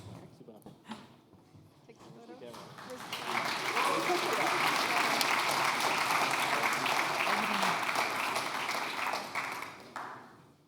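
Crowd applause at a start-up award ceremony swells from scattered claps and murmuring voices into a full, steady ovation of many hands, then tapers off near the end.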